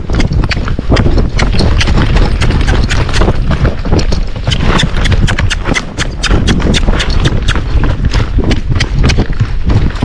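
A Tennessee Walking Horse canters along a trail, its hoofbeats loud, close and rhythmic throughout, with wind and rider movement underneath.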